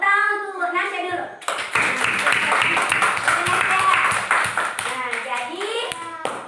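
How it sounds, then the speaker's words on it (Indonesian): Children clap together in a classroom in a loud, steady burst of applause lasting several seconds, with a voice speaking before and after it. "Tepuk tangan untuk Nasya dulu."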